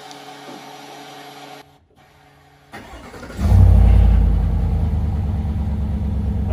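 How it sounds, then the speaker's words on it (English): A 6.2L GMC Sierra AT4 V8 with its factory intake cranks and cold-starts after a quiet pause, catching with a sharp rise and then settling into a loud, steady, fast high idle close by. "let's get on with the cold start here. So this is the factory intake."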